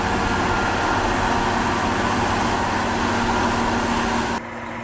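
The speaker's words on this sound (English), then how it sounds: "this train is pushed up by that engine right there from the behind" Mount Washington cog railway engine pushing its train uphill, a loud steady mechanical drone with constant rumble that cuts off abruptly near the end.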